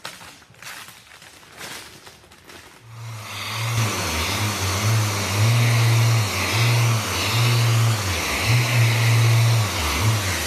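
A sander with a 400 grit Norton disc on an interface pad works over a panel. After some quiet handling noises, a loud steady whir starts and wavers in pitch as it presses and moves across the surface.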